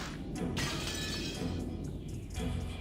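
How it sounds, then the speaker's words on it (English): Glass window smashing in the visual novel Umineko, a loud sustained shattering crash with breaking debris filling the clip, no voices over it. "The glass smashed with a violent sound and the frame groaned and creaked"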